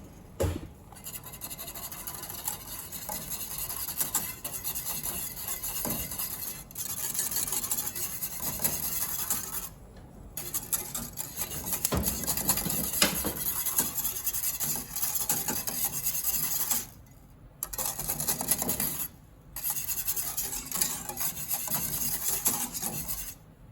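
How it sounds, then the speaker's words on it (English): A whisk scrapes and rubs steadily inside a pan, blending brown sugar into hot milk, a continuous close-up rasping with a few short breaks in the stirring. "when the milk is hot, whisk the brown sugar until it's blended"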